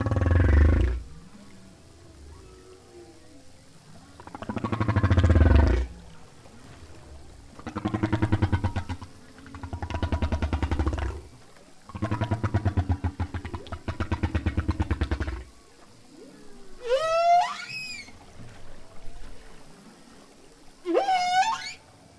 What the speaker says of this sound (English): here's an example of a theme change in a humpback whale song